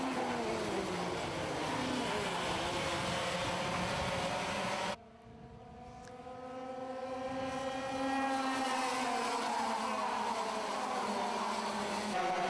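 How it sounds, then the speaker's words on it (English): TKM Extreme racing karts at Shenington come through the Bruno chicane onto the Hangar Straight, engines droning at a distance, briefly cutting out, then rising in pitch again as they accelerate away. "As the leaders now come through Bruno chicane, down onto the Hangar Straight"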